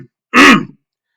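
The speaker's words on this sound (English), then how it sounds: "me clear my throat." A single short throat clearing, close and loud, a rough guttural burst in an otherwise quiet moment.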